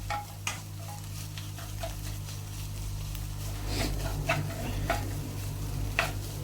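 Chicken thoran being stirred in a pan, a steady sizzle underneath with repeated scraping strokes of the spoon at irregular intervals, close and moderately loud.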